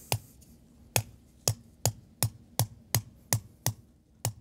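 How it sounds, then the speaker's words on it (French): A hammer drives an anchor into a pool foundation, ten crisp, evenly spaced strikes in a steady rhythm, close and clear against a quiet background. "on va l'enfoncer à l'aide de notre marteau"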